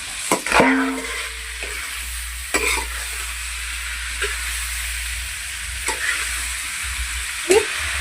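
Duck meat sizzles steadily in hot oil with turmeric for several seconds, with occasional spoon scrapes and knocks against the pan, close up.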